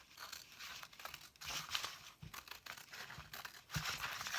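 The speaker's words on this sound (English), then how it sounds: "I'm going to take fabric scissors because it'll be easier to cut through everything" Fabric scissors cut through layered paper junk journal pages along a curved line, giving quiet, close, continuous crinkling and snipping with small crunches, faint throughout and with no talking.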